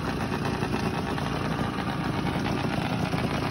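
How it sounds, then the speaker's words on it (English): Tomos moped running with a 47 euro performance kit and a Cranks handmade exhaust pipe, a steady, loud, buzzing two-stroke engine note held close throughout without letup. "a Tomos with a 47 euro kit with a Cranks handmade pipe"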